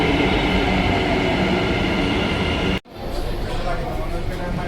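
Bangalore metro train running, a loud continuous rumble and rush of wheels on track with a sudden brief dip, then the steady roar resumes.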